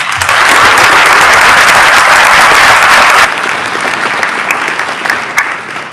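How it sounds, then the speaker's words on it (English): Loud applause from a large crowd at a school graduation ceremony, dense continuous clapping that drops abruptly to softer scattered clapping midway. "Give them a round of applause."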